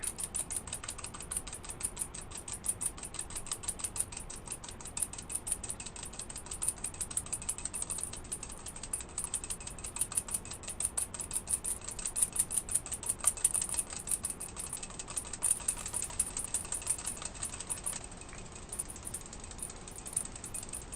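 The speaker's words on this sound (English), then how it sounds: "I'm whipping 2 egg whites to stiff peaks" Egg whites (two of them) whipped by hand toward stiff peaks, a fast, steady rapid ticking and rattling of a whisk against a bowl that runs continuously and evenly without talk.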